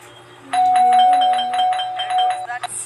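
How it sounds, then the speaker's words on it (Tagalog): Doorbell ringing in the horror game Scary Teacher, a sustained electronic chime lasting a couple of seconds with repeated pulsing tones, loud and close, with faint voices in the background. "There's that stupid bell again."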